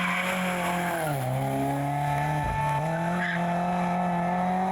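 An Audi Sport Quattro S1 Group B rally car sweeps past at night, its loud engine note rising and then dropping in pitch as it goes by, with a brief squeal near the middle, and no voices.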